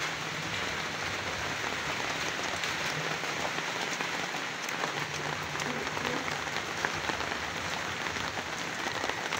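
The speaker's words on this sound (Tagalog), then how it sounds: "Pero ang malakas na ulan sa bukid." Heavy rain pouring over fields in the Philippines during a typhoon, a dense, steady hiss of drops drumming on surfaces that holds at an even level throughout, with no voices.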